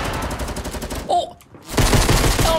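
Rapid bursts of light machine gun fire in Fortnite: Battle Royale, loud and dense, broken by a brief lull around the middle before heavy firing resumes.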